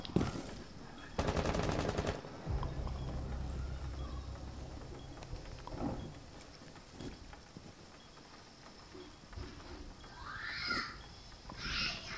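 Gunfire in Tom Clancy's Rainbow Six, a loud rapid burst of automatic shots near the start, then scattered shots and distant, muffled voices over a busy game soundscape.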